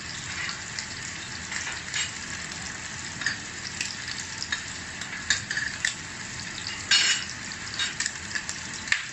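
Steak searing in a hot pan for a Steak Holstein, a continuous bright sizzle with crackling spits and a few louder bursts, moderately close with no talking.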